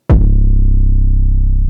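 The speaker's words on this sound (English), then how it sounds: "this is the first kick sample" A single punchy kick drum sample hits hard with a sharp attack, then its deep low body rings out and sustains loudly to the end, alone with no other sounds.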